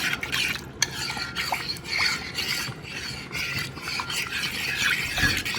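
A spoon steadily stirs a thick coconut, sweet potato and chickpea curry in a pot, making a continuous close, rasping scrape with slight rhythmic swells and no talking.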